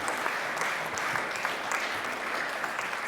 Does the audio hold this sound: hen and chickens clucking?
no